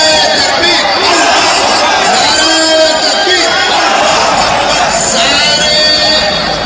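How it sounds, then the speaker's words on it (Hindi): A large crowd of thousands gathered in Bengal for the Babri Masjid foundation laying, making a loud, dense roar of chatter and shouting that holds steady throughout, with voices rising above the hubbub. "हजारों की भीड़ पहुंची है बाबरी मस्जिद की नींव रखने"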